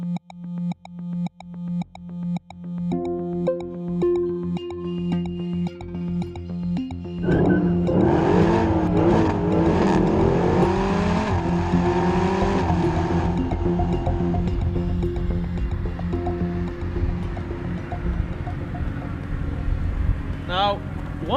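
A Mercedes-Benz AMG SLS engine, a few short revs at first, then a loud sustained roar rising and falling in pitch, with someone talking over it.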